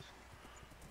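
Horse hooves in a video game give off a brief patter of soft clip-clop beats, close but fairly quiet, against a steady background hiss.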